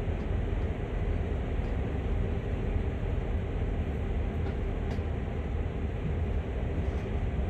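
Steady rolling rumble of a train in Train Sim World pulling out of a yard, a dense continuous low drone with faint higher hiss, even loudness throughout and no voices.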